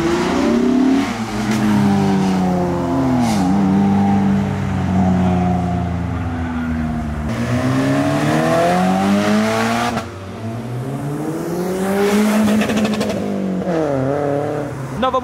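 A modified car pulls away from an evening car meet, its engine revving loudly and close by in repeated rising and falling bursts, with a brief squeal of tires and no talking.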